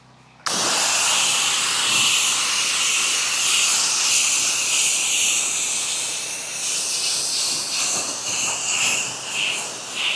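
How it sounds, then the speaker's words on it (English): A pressure washer sends a pressurized mist across a pool deck, an abrupt loud hiss that starts suddenly and holds steady and close, wavering slightly toward the end. "that's that nice little pressurized mist"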